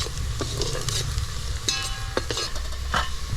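Onions sizzle in a pan over a wood-fired chulha while they cook for a mutton curry. Scrapes and clinks of stirring recur over a constant crackling hiss, close and fairly loud, with no voices.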